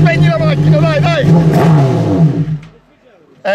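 A slalom race car's engine runs and revs at the finish of the Slalom Curinghese, loud and near, under excited talking, then cuts off abruptly near the end.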